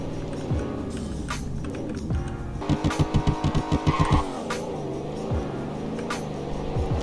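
Supercharged V8 engine of a car in the Roblox game Greenville, revving hard through a rapid series of pulsing throttle bursts near the middle, with steady engine drone and tire noise before and after.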